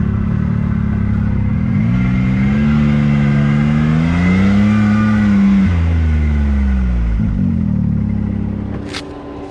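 A vehicle engine with a fuel delivery problem drones loudly and steadily, its pitch surging up and sagging back down unevenly over several seconds, suggesting an engine struggling under load.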